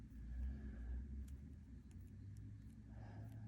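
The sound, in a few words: road traffic passing by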